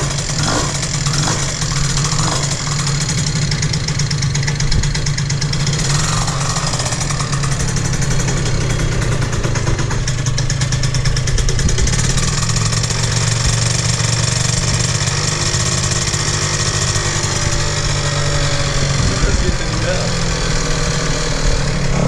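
A Yamaha Jog R scooter with a leaky crankcase runs with a loud, steady, close engine drone and a rough, rattling idle throughout, with voices now and then underneath.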